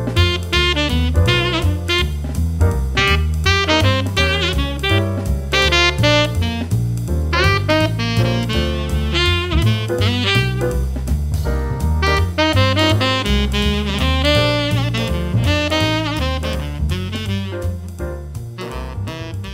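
A dense, loud melodic solo improvised over a backing track using only chord triad notes, with rapid busy notes over steady chords and bass for nearly twenty seconds, no speech.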